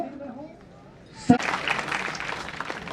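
Audience applause bursts out at a traffic awareness campaign event, starting abruptly after a spoken phrase and continuing as a steady wash of many hands clapping, moderately loud.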